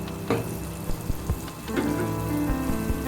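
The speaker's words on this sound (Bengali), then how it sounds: "প্রত্যেকটা মশলাই আলাদা আলাদা করে দিয়ে ভালো করে কষাতে হবে" Spices for a prawn malai curry sauté in hot oil, giving a close, steady sizzle with several quick knocks and scrapes from the stirring spoon.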